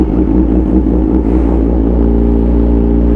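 2014 Yamaha YZF-R6 motorcycle with a modified exhaust and quick shifter, idling close up with a loud, deep, steady burble and slight throttle fluctuation, no talk.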